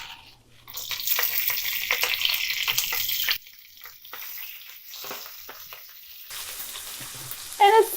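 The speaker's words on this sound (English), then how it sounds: "the last ingredient that we want to pan fry is just spinach" Spinach pan frying after bacon, a steady loud sizzle with stirring for about three seconds, then a quieter crackle as the leaves wilt, ending in a brief sharper clatter.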